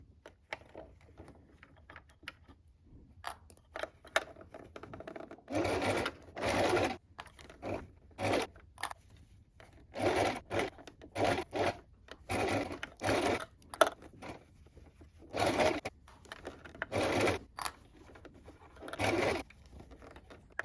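Sewing machine stitching fabric for a donut-shaped pincushion, running in many short, irregular bursts with brief pauses between them, moderately loud and close with no talk.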